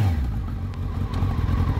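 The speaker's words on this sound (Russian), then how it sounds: "Мотоцикл передвигается." Suzuki GSX1300R Hayabusa motorcycle engine idling and moving off, a steady low rumble with faint clatter throughout, fairly close and continuous.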